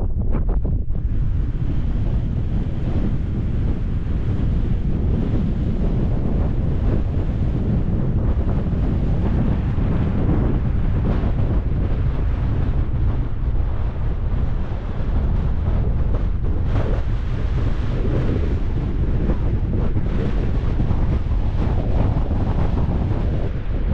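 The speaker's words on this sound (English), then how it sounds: "it's an easterly wind, but it's not that cold at all" Strong easterly wind buffets a microphone on the coast, a steady loud roar with surf rumbling underneath, continuous for the whole stretch with no voices.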